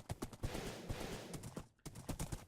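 Horse hooves clip-clopping in Minecraft, a rapid run of close, sharp hoofbeats with a brief pause before the rhythm resumes.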